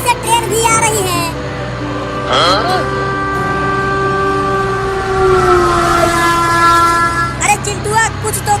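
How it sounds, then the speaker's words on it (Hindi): An oncoming train sounds a long, sustained horn blast that carries on for several seconds over the rumble of rail traffic, with people talking at the start and again near the end. "आगे से ट्रेन भी आ रही है।"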